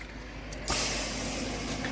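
Water sprayed onto a car's wheel rim, a steady broadband hiss that bursts in loud partway through and keeps rushing close up.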